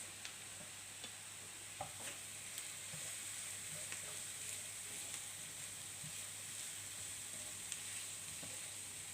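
Green and yellow peppers with onions sauté in a pan, a steady broadband sizzle running throughout with occasional light clicks and taps of stirring, close and even in level.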